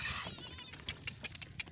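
Goat bleating in a village setting, a brief, fairly faint wavering call at the start followed by light patter and scattered clicks.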